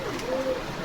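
Pigeons at a Bogura pigeon loft give a soft, brief coo, a short steady tone held under faint background noise.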